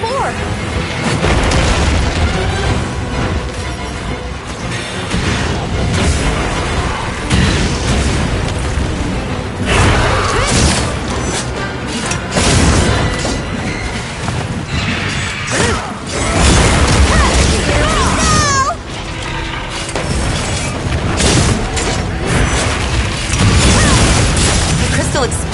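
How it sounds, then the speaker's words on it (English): A crystal bursting from contact with a monster's breath attack in the video game Monster Hunter Wilds, heard as loud booming explosive blasts and crashes amid constant battle noise. "The crystal exploded. Must have been from contact with its breath."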